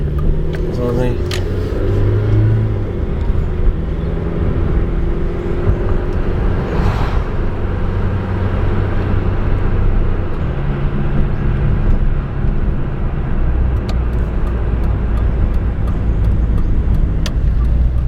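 A car drives along a residential road, a steady loud engine and tyre rumble continuing without break throughout, with someone talking over it near the start.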